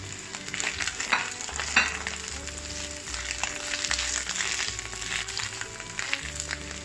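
Green onions stir-fried in a hot wok, with a steady broadband sizzle and frequent stirring and scraping scuffs throughout, close and moderately loud, with no talking.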